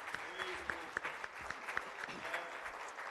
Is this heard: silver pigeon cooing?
no